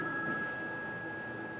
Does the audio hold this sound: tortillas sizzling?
no